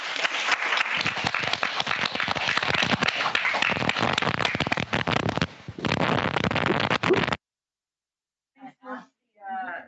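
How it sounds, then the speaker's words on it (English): A seminar audience at a cosmology and machine learning workshop breaks into loud, sustained applause close by for about seven seconds, then it stops abruptly and a voice speaks briefly. "applaud yourself"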